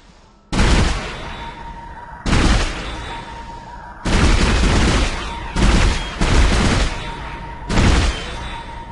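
Heavy automatic weapon fire from the Dead Space video game bursts out in loud, repeated volleys of one to two seconds each, separated by short pauses.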